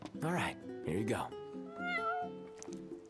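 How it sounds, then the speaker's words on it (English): A cat meows in the Final Fantasy XV video game, giving two drawn-out, close meows in quick succession followed by softer, higher cries. "Prompto, you better take a picture of me feeding the cat."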